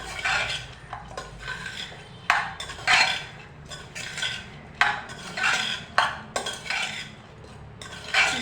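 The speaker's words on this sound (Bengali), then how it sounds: "এবার আমরা এটা ভালো করে হাতা দিয়ে মিশিয়ে নিচ্ছি।" A ladle mixes red lentil dal with papaya, cumin powder and black pepper, scraping and clinking against the pot in repeated bursts about once a second, close and clear, with no talk.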